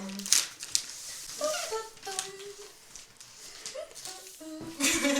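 Wrapping paper on a gift crinkles and tears in repeated bursts during unwrapping, close and fairly loud, while people talk and laugh over it.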